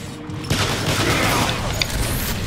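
Enemy rockets fire in a Transformers: War for Cybertron firefight, sudden loud bursts and rumbling blasts that roll on continuously after a quiet start.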